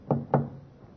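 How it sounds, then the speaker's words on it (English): Two discreet knocks on a ship's cabin door, evenly spaced and close, with a low hum of background noise behind them. "knocked discreetly on the door to B-24"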